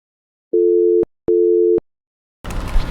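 Two steady electronic phone-line beeps, each about half a second long with a short gap between them, sound loud and clean while a call connects in Doctor Who: The Lonely Assassins. A burst of broadband noise follows the beeps.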